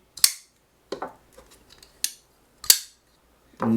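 Four sharp, bright metallic clacks from a Holt Bladeworks Specter V4 pocketknife blade deploying, spaced about a second apart, each with a short ringing tail, then a louder low-pitched rustle at the end.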